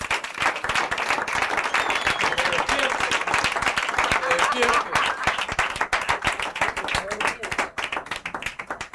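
A church congregation applauds in a dense, steady burst of clapping that fills the room, thinning toward the end as a voice speaks over it.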